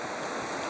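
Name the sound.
waves on a lake, sounding like the sea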